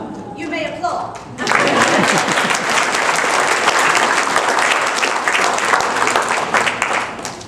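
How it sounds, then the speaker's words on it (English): An audience at a lecture breaks into loud, sustained applause after a brief spoken moment, dense clapping continuing steadily to the end. "You may applaud."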